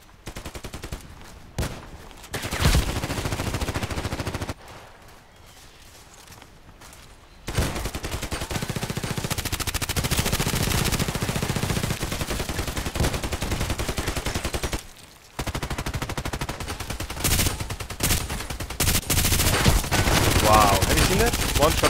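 RPK machine gun in the video game Contract Wars, loud bursts of rapid automatic fire in several long stretches with brief gaps between, close and dominant, with a player's voice at moments.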